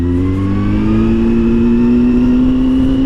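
A loud Honda Hornet 600 motorcycle engine revving steadily upward in pitch, a continuous high whine with no talking.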